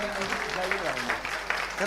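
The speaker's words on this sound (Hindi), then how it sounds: "एक बार जोरदार तालियां" Applause from an audience at a Hindi poetry gathering, a steady mass of clapping that runs throughout, with someone speaking over it.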